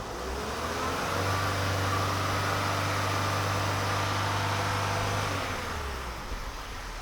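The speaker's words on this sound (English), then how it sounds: "I'll give it a bit of a rev and we'll see what's happening" Opel/Vauxhall Astra engine warming up with a fault that makes it cut out, giving a close, steady mechanical hum and whirr that rises slightly then holds for several seconds before dropping off near the end, with no talking.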